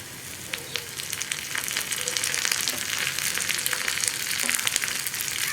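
Dried red chillies and curry leaves fry with onions in hot oil, giving a steady, fairly loud sizzle and crackle with scattered pops throughout and no voices.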